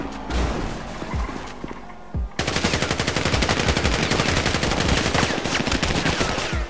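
Rapid bursts of GTA roleplay battle royale gunfire, sparse shots at first, then a sustained loud automatic stream of rounds filling the second half.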